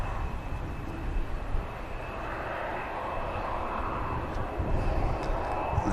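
A TUI airliner rolls out for departure at Manchester Airport, giving a sustained engine rumble and roar with a high steady whine, moderately close and continuous.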